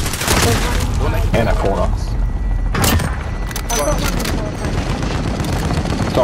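Rapid bursts of automatic gunfire and explosions crackle in a first-person shooter match, loud and continuous, with players talking over the shooting.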